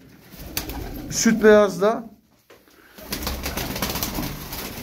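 Pigeons coo in a short rolling burst close by, then a talking voice and some shuffling background noise follow.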